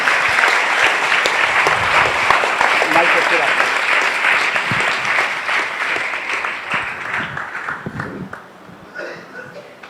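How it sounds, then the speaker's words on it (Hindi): A church congregation applauds to welcome a preacher at a Christian service: steady, dense clapping from a sizable crowd that holds, then gradually thins and fades toward the end. "खुदा के खादम का इस्तकबाल तालियों के साथ हम करेंगे"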